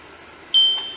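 An industrial safety alarm sounds a single steady high-pitched electronic tone that starts abruptly and holds loud over faint background hum, with no talking.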